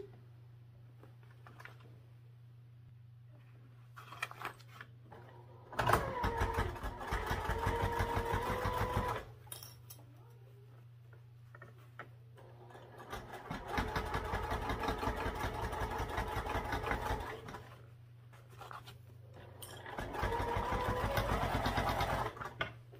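A sewing machine stitching across a backpack seam runs in three bursts of rapid mechanical whirring, separated by pauses with a low hum and handling noises.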